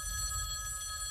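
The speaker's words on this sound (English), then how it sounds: "that phone over there is gonna ring." A telephone bell rings steadily, a bright metallic trill with a constant tone, fairly quiet and alone.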